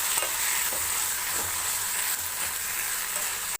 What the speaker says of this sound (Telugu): సో పుదీనా లీవ్స్ యాడ్ చేసుకున్న తర్వాత జస్ట్ ఒక 1-2 మినిట్స్ ఫ్రై అవ్వనివ్వాలి